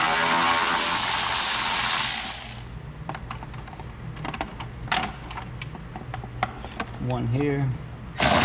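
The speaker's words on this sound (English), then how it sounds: "I'm gonna take off this 8mm bolt here for this cover." A ratchet wrench removes an 8mm bolt from the intake cover of a 2005 Ford Escape 3.0 V6, after a loud power-tool whir, giving a series of sharp close clicks in short bursts while someone briefly speaks.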